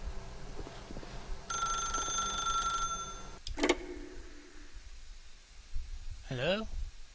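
A telephone in The Stanley Parable rings with a steady electronic bell tone for over a second, clear and close, followed by a sharp click and a voice speaking afterward.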